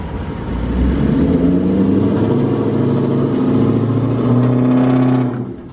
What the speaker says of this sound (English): you can't just rev up on a motor